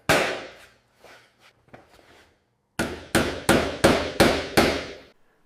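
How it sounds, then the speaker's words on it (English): Two-inch nails driven through drywall into a wooden stud with a hammer: a few light taps, then six loud, evenly spaced heavy blows close up, each ringing briefly. "nails that were about two inches, so they would go through the drywall and penetrate into the stud really nicely"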